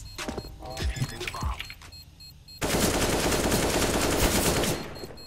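Gunfire from the video game CS:GO: a few scattered shots and clatters lead into a sudden loud, sustained burst of continuous firing that runs to the end.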